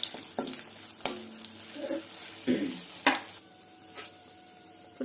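Cumin seeds and dried red chillies crackle in oil left over from frying potatoes, a soft sizzle with several sharp spoon clinks and stirring scrapes spread across the moment.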